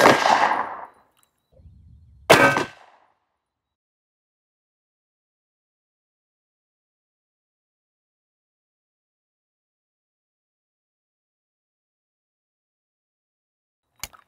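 A Sig P365 pistol fires one Sig V-Crown 115gr JHP round: a single sharp, loud report just after a brief voice, followed by long silence and a faint click at the very end.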